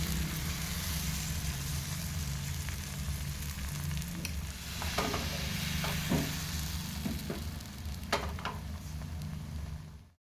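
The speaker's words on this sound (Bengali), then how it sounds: "ঠিক একই পদ্ধতিতে আমি আবারও অল্প তেল ব্রাশ করে প্যানের মধ্যে ময়দার মিশ্রণটা দিয়ে ভালোভাবে প্যানের চারিদিক ছড়িয়ে দিব।" Flour batter for egg paratha sizzles steadily in a lightly oiled pan, a continuous close frying hiss with a few scraping and tapping sounds partway through, and no talking.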